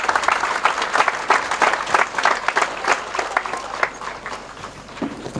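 A church congregation claps loudly and steadily after Mass, a dense, sustained round of applause with bright individual claps, with no talk over it.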